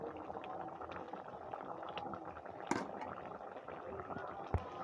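A pot of bhola fish curry with taro and potato simmering, a quiet close bubbling hiss with small pops and a couple of sharp clicks, low in level throughout.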